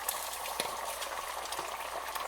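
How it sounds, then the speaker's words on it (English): Beaten egg for an omelette hitting a hot frying pan, a dense continuous sizzle and crackle close by, with no talking. "then you pour the egg"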